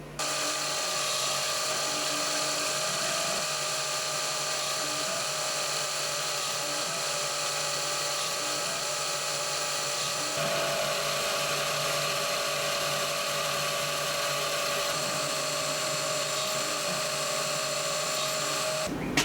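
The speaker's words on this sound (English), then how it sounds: "I'll swap out for the 3mm drill bit now and just go around again." A steady high-pitched whine of a 3mm drill bit boring holes, running continuously without pause, close and fairly loud.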